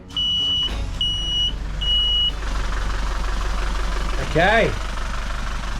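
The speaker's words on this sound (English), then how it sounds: "Engine is up and running, and we just checked that the alternator was charging" A yacht's engine runs at a steady, mid-pitched idle after several repeated alarm beeps at startup. A brief voice sounds over the running engine.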